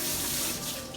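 Vegetables for Haitian legume are washed quickly under running water from a tap, giving a steady, close, full splashing stream for the whole moment.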